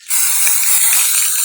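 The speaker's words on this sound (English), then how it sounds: "I got this snow spray from the dollar store, and I'm just gonna spray it on there." A continuous loud hiss of an aerosol snow spray can spraying steadily onto a Christmas tree at close range for over a second, with faint rattling underneath.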